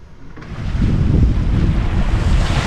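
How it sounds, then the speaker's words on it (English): Strong wind and rushing ocean waves buffet a sailboat about 30 miles out near the Gulf Stream in 6 to 7 foot seas, a loud continuous roar with microphone wind noise. "Right now we're seeing about 6 to 7 foot waves."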